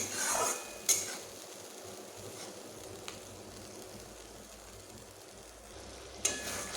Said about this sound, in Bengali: টমেটো দিয়ে মশলার সঙ্গে মশলাটিকেও ভাজ ভাজবো আবার টমেটোগুলো ভাজা হবে